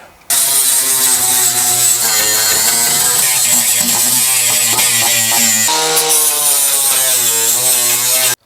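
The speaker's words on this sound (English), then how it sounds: "I'll just go over the welds with the grinder" An angle grinder works over welds on a basic racecar's seat mount, a loud continuous whine with shifting pitch as the disc bites and eases off the metal, running steadily close up with no talk.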